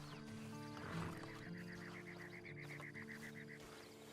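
A horse whinnies in a Red Dead Redemption 2 mission, a rising and falling call over steady game music and ambient tones, loud and close through most of the stretch.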